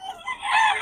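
A young gamecock stag crows once, a short nasal rising call that swells toward the end, close by with no other sound around it.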